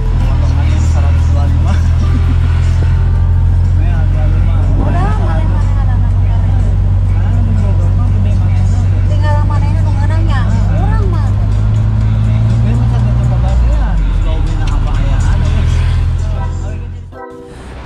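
A Mitsubishi Colt L300 minibus engine roars steadily at speed with road rumble on the Bogor to Sukabumi route, voices babbling faintly underneath, before the engine note drops away near the end.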